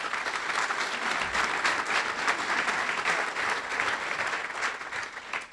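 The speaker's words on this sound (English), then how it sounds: "I think that deserves a round of applause" A crowd at a chamber of commerce meeting and awards event applauds steadily, a dense wash of clapping at moderate volume that carries on without pause and begins to taper at the very end.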